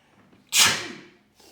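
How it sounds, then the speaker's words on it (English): A single sharp, breathy sneeze bursts out close by, then fades quickly. "Sorry, I'm going to sneeze."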